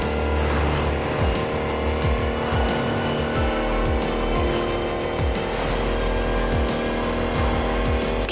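An electric car in The Crew Motorfest racing game speeds along a speedway, a continuous loud driving drone with repeated rising and falling whooshes and tire noise, no talk.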